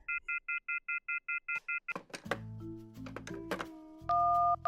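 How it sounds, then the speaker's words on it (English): Telephone keypad tones in a horror video game, a motel owner punching random numbers: about nine short, evenly spaced beeps, then clunks and clatter of the handset and a steady tone, close and clear with no talk. "He dials random numbers and tries to make a call"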